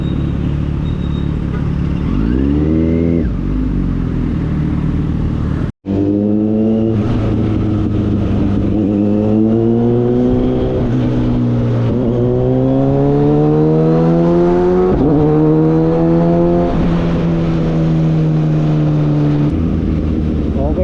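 Heavy city road traffic is heard from a Kawasaki Versys 1000SE motorcycle: engines rumble close by, rising and falling as vehicles rev and accelerate, with a brief dropout near the start and someone talking over the noise.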